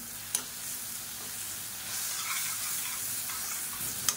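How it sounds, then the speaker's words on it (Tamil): Tomato with chilli powder and mutton masala sautéing in a pan, a steady close sizzle and hiss with a couple of sharp clicks from stirring, gently swelling midway. "இது எல்லாத்தையும் நல்லா வதக்கி வச்சுக்கலாம்"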